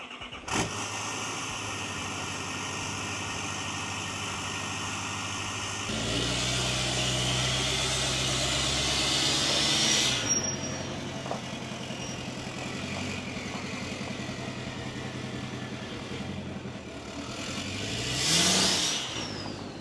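A GMC Denali pickup truck drives steadily, its engine hum and road noise continuous and fairly loud, with swelling acceleration around the middle and a brief rising whoosh near the end.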